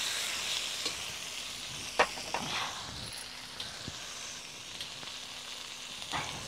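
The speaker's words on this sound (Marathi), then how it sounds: "त्याच्यामध्ये आपण हिरव्या मिरच्या ठेवलेल्या होत्या त्या पण टाकून घ्यायच्या" Green chillies sautéing in masala in a pan over a village wood-fired stove, a steady close sizzle with occasional sharper taps and scrapes from stirring, and no voices.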